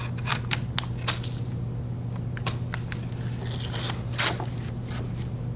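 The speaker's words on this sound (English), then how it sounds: "I can get the knife through it, but it's taking a lot of pressure." A knife is forced slowly through a hard block of cold process pine tar soap, giving repeated crunching scrapes and short gritty bursts over a steady low hum.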